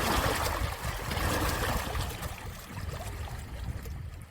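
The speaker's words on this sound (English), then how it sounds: "let your breath move with the rhythm of the waves" Lake water laps gently and continuously at sunset, a steady close wash with soft splashes and a gurgling, trickling texture throughout, no voices.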